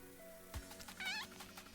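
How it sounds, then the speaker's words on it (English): Waffle, a male cat, gives a single short meow, faint and close, with a soft thump just before it in an otherwise quiet room. "He gave us a meow."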